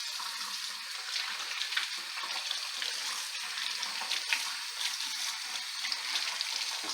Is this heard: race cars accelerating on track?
no